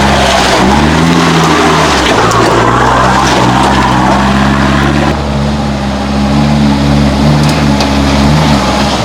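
A vehicle accelerates hard on a Wombat State Forest trail and slides sideways, its engine loud and close with rising and falling revs and a rough, gritty hiss from tyres on the dirt.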